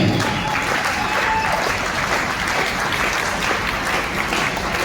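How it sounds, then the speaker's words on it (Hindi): Loud, steady applause from a crowd fills the air continuously at a motivational seminar for Safe Shop, a dense wash of clapping that holds at full strength from start to finish. "जोरदार ताली इनके लिए"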